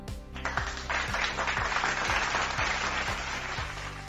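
Applause preset triggered from a MAONO E2 streaming sound card: a sustained wash of many hands clapping, fairly soft and continuous for about four seconds over a quiet repeating beat.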